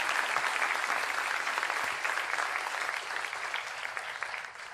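Applause from a church congregation during a Sunday service fills the room, dense and steady, slowly thinning toward the end with no talk over it.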